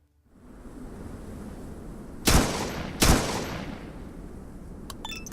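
Two sharp gunshots ring out about a second apart in the Atom RPG video game, each followed by a short decaying tail over a steady background hiss, with faint clicks near the end.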